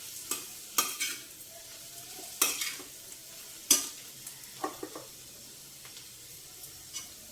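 Ridge gourd curry seasoned with chili and salt fries quietly in a pan, broken by sharp scraping strokes of a spoon stirring it at irregular intervals, close and alone.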